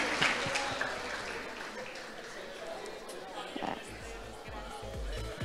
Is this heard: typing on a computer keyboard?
no